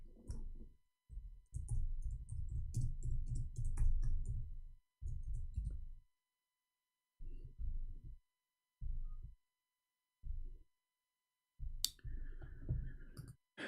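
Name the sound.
typing on a computer keyboard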